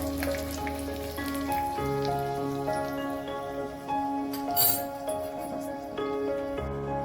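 Asafoetida and peanuts sautéing in hot oil for Maharashtrian dadpe pohe, a soft continuous crackling sizzle with scattered pops, faint under sustained background music.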